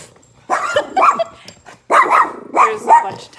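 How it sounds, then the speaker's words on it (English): Several tiny dogs bark and yip in quick bursts, loud and close, with brief pauses between volleys. "There's a bunch of tiny dogs."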